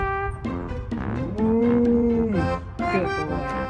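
A pet parrot imitates a cow, giving a loud, drawn-out moo close by with a rising and falling tone over a few seconds, preceded by shorter grunting calls.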